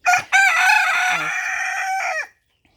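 A Chinese Silkie rooster crows loudly close by, a long strained cock-a-doodle-doo following a short squawk, with a low hen cluck mixed in midway.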